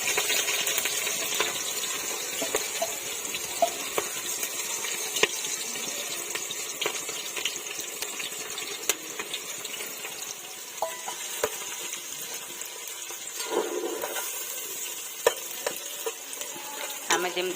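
Chopped onions fry in hot oil while being stirred for an Odia mutton dalma: a continuous close sizzle broken by frequent scraping clicks and knocks from the stirring.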